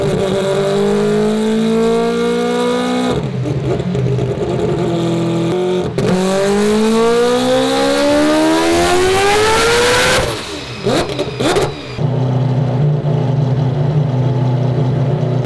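A 1000hp all-wheel-drive billet four-rotor Mazda RX-7 engine revs hard, loud and close, with rising pitch sweeps, sudden cuts and stuttering bursts as the wastegates open, then settles back to a rough idle.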